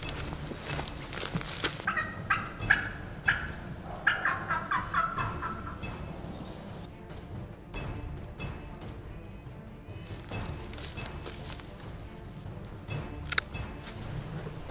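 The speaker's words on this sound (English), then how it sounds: "We have a gobbler just below us." A wild turkey gobbler sounds off in heavy timber below a ridge, with several gobbles followed by faint crunches and shuffles of movement in quiet woods, all at a moderate distance.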